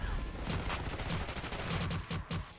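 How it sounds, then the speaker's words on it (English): Rapid full-auto pistol fire from a Black Ops 6 match, dense bursts of shots crackling continuously at close range with no pauses. "This dude's using a pistol,"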